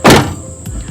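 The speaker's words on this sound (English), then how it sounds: "you can test the door to see if it shuts" A Hyundai car door being rebuilt is shut with a single loud, close thunk, followed by a faint rattle as it settles.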